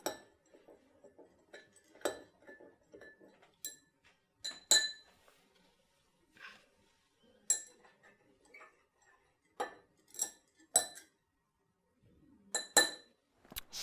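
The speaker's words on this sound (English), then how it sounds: "let's stir them up all a bit so that we can see our colors a little bit better" A stir stick clinks against glasses of colored water in a series of bright, glassy taps, some isolated and some in quick clusters, close and clear over a quiet background.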